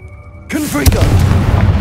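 After a voice casts the Confringo spell in Hogwarts Legacy, a loud blast bursts in with a heavy boom and a rumbling tail, over game music.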